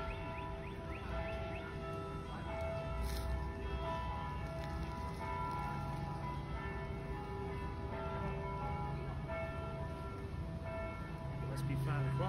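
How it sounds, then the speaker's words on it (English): Church bells ring at 5 o'clock in a square in Savannah, a soft, sustained tolling heard faintly at a distance beneath outdoor ambience and people talking nearby. "The church bells are going off."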